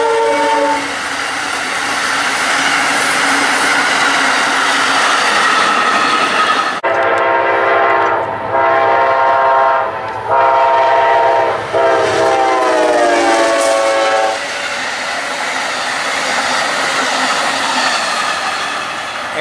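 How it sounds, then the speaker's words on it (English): A northbound freight train roars past close by, its horn sounding in several long blasts midway while wheels and cars rumble steadily throughout. "And there goes train 90 northbound by Micro."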